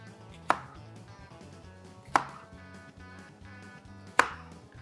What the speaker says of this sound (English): We're going to cut them in half like this.